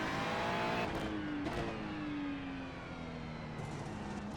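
A race car in the iRacing video game holds a loud, sustained engine drone, pitch sliding downward as the car coasts and brakes, with brief bursts from gear changes and no speech over it.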